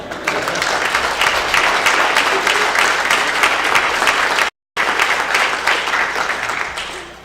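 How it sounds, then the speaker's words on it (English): A crowd at a tribal government post-election forum gives Billy Frank a long round of steady, full applause, loud and even, with a brief dropout partway through before it continues. "Give him a round of applause."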